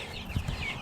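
Four-week-old baby chickens cluck softly in a brooder, a couple of short, faint calls in less than a second with no voices.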